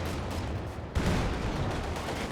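Panzer IV tank cannon fire in a Company of Heroes 2 battle, a dense, loud barrage of booming shots and battle noise that jumps sharply in intensity partway through and stays heavy.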